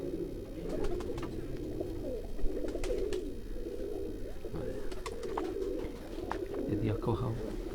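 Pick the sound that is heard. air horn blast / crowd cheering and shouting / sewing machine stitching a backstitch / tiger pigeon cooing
tiger pigeon cooing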